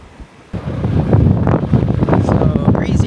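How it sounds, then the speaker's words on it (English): Strong wind roars across the microphone at the Cape of Good Hope on the southwestern tip of Africa. After a quiet half second, a loud, sustained, gusting rumble takes over. "So crazy, crazy windy."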